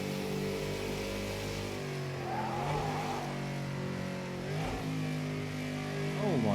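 Race car engine in Project Cars 2 rises and falls through a heel-toe downshift, with sharp throttle blips punctuating steady harmonic engine drone; loud and close throughout, ending on a rising rev.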